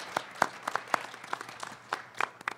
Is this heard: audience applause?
yes